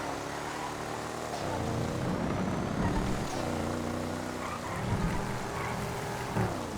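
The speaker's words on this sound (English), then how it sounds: "It might not be super fast, the Virgo, but it's a lovely car to drive. Sounds great too." Virgo car engine in GTA FiveM, a steady, fairly loud drone rising and falling with gear changes and acceleration throughout, alone with no talk.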